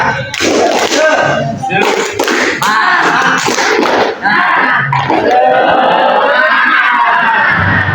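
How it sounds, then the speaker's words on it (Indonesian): Classroom of children clapping hands together in a loud, dense burst of claps and cheering, with a brief dip partway before the clapping resumes. "Oke, tepuk tangan."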